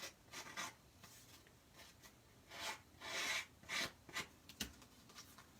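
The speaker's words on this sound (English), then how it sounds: "And I'm going to do that scraping once again." A surface is scraped in a quiet, dry rasping sequence. The short strokes come in irregular bursts, close by, with no one talking.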